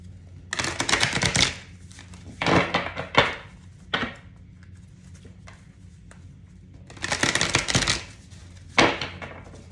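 Tarot cards are riffled and shuffled in several quick, crisp bursts separated by short pauses, close by, with soft taps and thumps in between.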